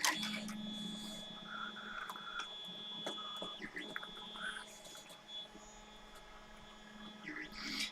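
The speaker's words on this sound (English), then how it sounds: "Can any of you guys hear the 3D printer in the background?" A 3D printer runs in a room where a car amplifier is being repaired, a faint steady mechanical hum with thin whining tones that shift in pitch as its motors move.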